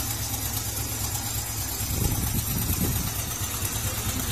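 A motorbike engine with an MB33 ignition coil runs steadily at a close, even idle, a continuous low drone with a slight roughening partway through and no talking over it.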